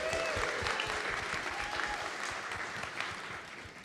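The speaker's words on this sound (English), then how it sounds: "Let's get a exciting cheer going on and some clapping for who's excited for today." A conference audience at a customer panel session claps steadily with light cheering mixed in, a dense, moderately distant wash of hands that stays even for a few seconds.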